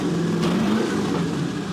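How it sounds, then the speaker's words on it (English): Lamborghini fitted with an LS engine, freshly repaired and running cleanly without misfire, gives a steady, loud, close idle rumble with a low droning tone throughout, no talk over it. "The engine is super healthy"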